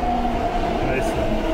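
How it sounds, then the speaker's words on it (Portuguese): A subway train pulls into a station platform with a loud rumbling rush and faint high squeals, with a voice speaking over it. "O metrô está vindo."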